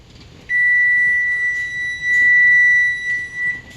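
A kitchen timer beeps loudly and continuously for about three seconds with a steady high electronic tone, set while apple scrap jelly boils in a pot on the stove.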